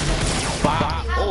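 Sniper fire in the Whistle Warrior video game, a quick burst of gunshot cracks at close range within about a second, with a voice talking over it.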